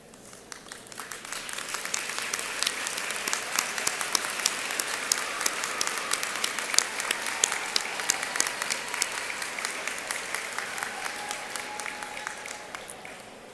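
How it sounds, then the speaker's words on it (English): An audience at a nursing pinning ceremony bursts into sustained applause, swelling quickly from a few claps into a full, even roar of many hands, then tapering off near the end. "please stand and allow us to thank you with our applause"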